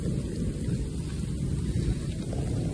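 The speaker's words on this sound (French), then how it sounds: "c'est un peu plus qu'averse orageuse" Heavy thundery rain shower falls during a countryside hike in the Lot, a steady dense wash of rain with low rolling rumble, heard from shelter under a tree with no voices.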